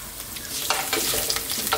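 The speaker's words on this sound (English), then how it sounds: "curry leaves, and just for a few seconds we want to infuse this oil, let them do their thing" Curry leaves frying in hot oil in a pan, giving a loud, continuous crackling sizzle with bursts of spitting and pops.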